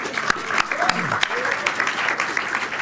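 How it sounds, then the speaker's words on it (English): Audience at a film school Q&A session breaks into applause, a dense, lively clatter of many hands with a voice or two briefly audible underneath. "I don't know what I'm clapping for."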